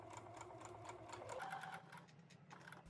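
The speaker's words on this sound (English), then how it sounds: "pivot 180 degrees and sew over your stitch all the way to the left side of the kick pleat." A sewing machine stitches along a skirt's kick pleat, running in a steady, close, continuous whir with rapid needle pulses, easing slightly partway through and then carrying on alone.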